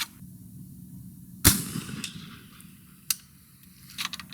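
An 1853 Enfield black powder rifle fires one sharp, loud shot. The report is followed by a quiet rumbling tail and a few faint clicks and knocks afterward.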